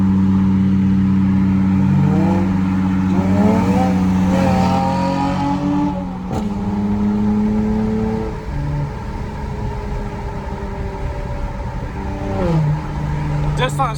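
Dodge Challenger V6 engine revving inside the car, rising and falling engine tones with a few throttle blips, loud and near, with people talking over it at times.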